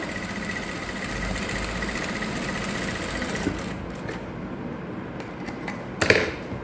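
An electric sewing machine runs a double seam in a basic tailoring lesson, a steady whirring drone holding close and even for several seconds before a brief louder clatter near the end.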